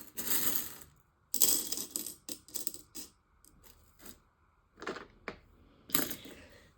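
Small metal charms for a tarot reading clink and rattle as they are cast onto a table, several sharp close jingling bursts separated by short silences.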